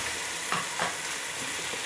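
Ginger garlic paste sizzles in hot oil in a pot while being stirred for a biryani, a steady bright crackle with a couple of soft scraping strokes.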